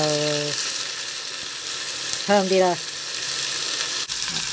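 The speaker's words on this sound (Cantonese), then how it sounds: "煎一煎啲雞去。" Chicken pieces sizzle steadily as they pan-fry for a coconut green curry, a loud continuous hiss with a brief spoken remark partway through.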